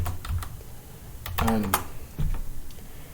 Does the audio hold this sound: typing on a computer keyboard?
yes